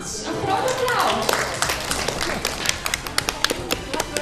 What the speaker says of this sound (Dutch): Een groot applaus